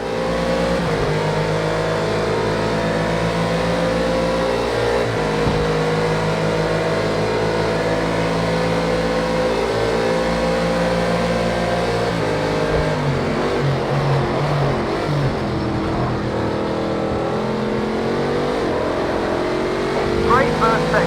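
A race car engine on a track in a racing video game, droning steadily and shifting pitch as it revs and accelerates through gears, with a voice talking over it throughout.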